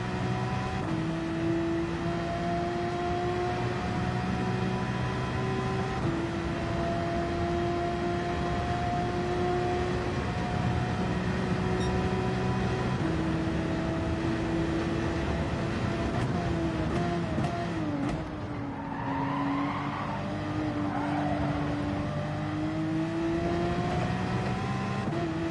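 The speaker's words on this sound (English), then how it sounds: "Hear the difference in the engine noise, watch." A Porsche race car engine in the Gran Turismo 7 sim racing game drones steadily for the whole stretch, pitch climbing through gears with brief drops at shifts and a lift around the middle.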